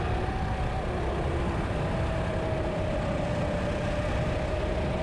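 Go-karts race around a track with a steady, loud engine drone and a faint whine that slowly shifts pitch. The sound stays continuous and close throughout, with no talking.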